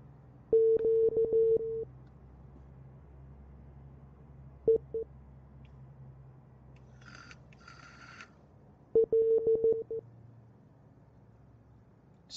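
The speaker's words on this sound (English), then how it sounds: "typing in Morse code, it sounds like" Morse-like tapping on the Hindenburg airship in Microsoft Flight Simulator 2020: clusters of short, pure electronic beeps come in three bursts, with a quiet low hum beneath and faint clicks between them.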